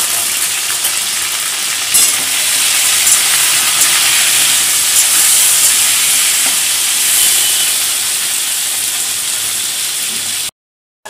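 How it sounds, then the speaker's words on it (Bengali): Vegetables frying in hot oil for a Bengali potato, pointed gourd and prawn dish, giving a loud, steady close sizzle and hiss with faint stirring. It cuts abruptly to silence near the end. "लाल করে ভাজা হয়ে গেছে, এবার তুলে রাখব।"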